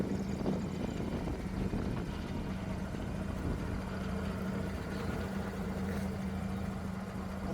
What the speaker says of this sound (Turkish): Arabada spor egzoz var.